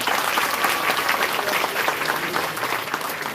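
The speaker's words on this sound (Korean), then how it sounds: "박수 한번 주시기 바랍니다" A party members' rally audience delivers steady, dense applause for introduced committee members, a loud, even clapping texture sustained throughout with no break.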